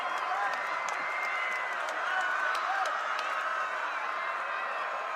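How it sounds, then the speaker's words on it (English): Student section at a Skyridge high school football game cheering and clapping for its defense, a steady broad crowd roar from the stands with scattered claps and shouts and no clear speech. "The Skyridge students trying to cheer on their defense."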